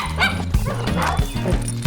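A dog barks a few times in quick succession over steady children's background music.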